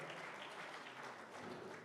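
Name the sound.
audience applause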